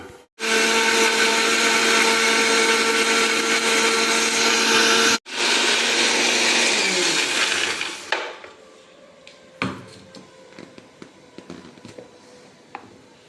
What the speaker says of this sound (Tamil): இதில் வந்து கொஞ்சம் சோம்பு கொஞ்சம் சீரகம் ஒரு சின்ன பச்சை மிளகாய் போட்டேன் இப்போ சேர்த்து அரைச்சிக்கலாம்